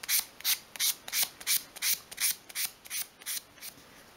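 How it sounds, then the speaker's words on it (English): A small wooden piece for a 1/12 scale novelty wall shelf is hand-sanded with fine sandpaper, giving about a dozen quick, even, rasping strokes up close that slowly grow softer. "You can then tidy that piece up in your hand with a piece of fine grade sandpaper."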